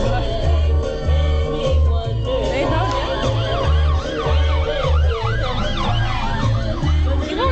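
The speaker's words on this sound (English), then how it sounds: "That ambulance is coming down here." An ambulance siren wails in a rising and falling pattern as it approaches along a street, loud and close over a steady low rumble of road traffic and background music, with brief talk in between.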